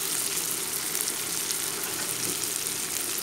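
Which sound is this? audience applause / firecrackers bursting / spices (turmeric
spices (turmeric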